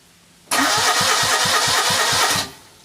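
Citroen 2CV engine cranking and firing while trying to start, a loud close rhythmic chugging of about ten pulses under a broad roar lasting two seconds before cutting off, with no talking.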